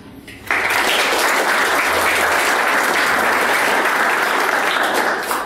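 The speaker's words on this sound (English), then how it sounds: "please give a quick round of applause to Grace." A crowd at a space industry event breaks into applause, loud dense clapping starting abruptly after a brief quiet moment and holding steady to the end.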